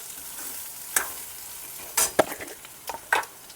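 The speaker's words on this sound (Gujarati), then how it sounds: "આપણે તેલમાં જ સડવા દેવાનું છે, હાવ સડી જાય ત્યાં લગણ આપણે સડવા દેવાનું છે તેલમાં એકદમ।" Eggplant and potato pieces frying in oil for a simple village-style eggplant curry, a soft steady sizzle broken by several sharp clinks and scrapes of stirring.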